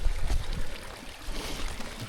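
Water runs along a flooded public footpath in the Sussex countryside, a soft continuous trickling stream close by, with faint rustling and irregular splashy movement and no voices.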